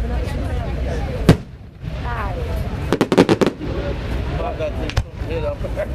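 Fireworks burst at a dirt speedway in a series of sharp booms and a rapid crackling volley, with a crowd chattering and cheering throughout.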